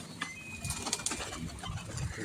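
Pigeons gather grain close by, with soft cooing, rustling and a few brief wing flaps in a short, busy stretch.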